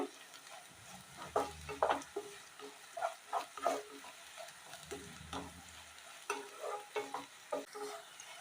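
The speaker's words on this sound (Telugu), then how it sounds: "వీటిని ఆయిల్లో బాగా ఫ్రై చేసుకోవాలి." Chopped onion pieces fry in oil as a spatula stirs them, giving soft rhythmic scraping strokes over a gentle, close sizzle.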